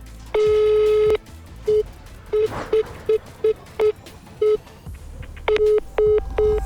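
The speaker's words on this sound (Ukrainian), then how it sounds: "Гудки йдуть." Electronic telephone tones over a line: one long beep, then a series of short evenly spaced beeps with a faint background hum.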